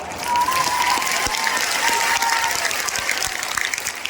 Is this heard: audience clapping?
yes